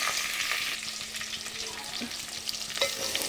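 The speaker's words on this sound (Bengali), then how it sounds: "এখানে মাছের তরকারিটাও বসিয়ে দিয়েছি এখানে পেঁয়াজটা একটু দিয়ে ভাজা ভাজা হয়ে যাওয়ার পরে যে আলুগুলো দিয়ে দিয়েছি" Potatoes and onion fry with spices in a small pot as the base of a fish curry, a soft steady sizzle under frequent close scraping and stirring sounds, with no talking.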